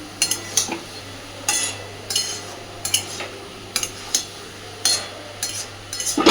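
A spoon scrapes and clinks in a cooking pot of elephant foot yam stalks, about a dozen short, close stirring strokes at an irregular rhythm, with no talking.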